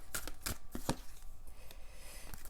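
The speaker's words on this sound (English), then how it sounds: "We're shuffling this deck, the archetype deck." An oversized tarot archetype card deck shuffled by hand, giving a few quick papery riffles and slaps in short irregular bursts, close and fairly quiet.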